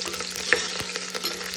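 Food sizzles steadily in a pan on a home stove while being stirred for a Kannada pork dish, a soft continuous crackle with one small sharp pop.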